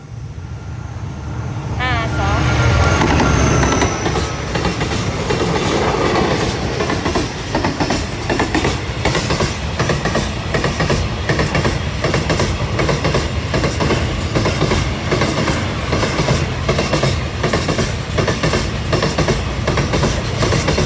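A freight train hauled by QSY locomotives climbs a hill, loud and close with a steady rumbling roar and rhythmic clickety-clack of wagon wheels running throughout, a horn-like tone briefly near the start.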